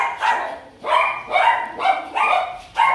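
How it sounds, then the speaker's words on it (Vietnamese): A Husky barks at a dog breeding kennel in Kontum: five loud, close barks in a steady rhythm, each followed by a brief pause, with no voices over them. "Một giống chó nữa là Husky."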